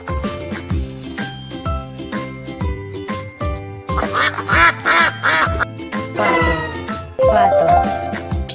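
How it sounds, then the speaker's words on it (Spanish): A duck quacks repeatedly in loud, nasal bursts over a bouncy children's tune with chimes and tinkling bells, the calls standing out clearly above the music. "Pato."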